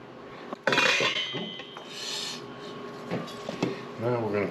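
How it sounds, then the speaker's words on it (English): Spaghetti pie ingredients being stirred in a bowl give scraping, rasping utensil strokes and clatters against the bowl, irregular and close, with a person talking intermittently over them. "Now we're going to mix this all together."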